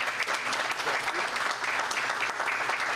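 An audience at a press conference applauds steadily for about three seconds, a dense wash of clapping heard from within the room with no speech over it.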